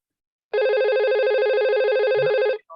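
An IP phone rings once with a loud, warbling electronic trill lasting about two seconds, then cuts off abruptly.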